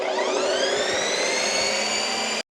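A home ice cream maker spins a pint with a loud, steady jet-engine-like whir and high whine, continuous and close, cutting off abruptly at the end.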